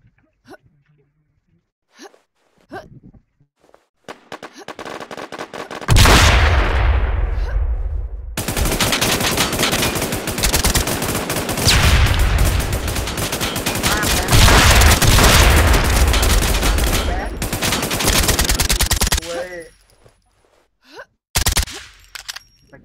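Heavy gunfire and explosions in an online shooter game roar loudly and almost continuously for about fourteen seconds, with sparse clicks and short bursts before and after.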